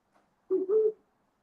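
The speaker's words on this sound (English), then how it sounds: "When I lock the car, it's going to make a sound." A Rivian R1S electric SUV gives a short owl-like hooting lock chime, two smooth tonal notes under a second long, clear and close with nothing else heard.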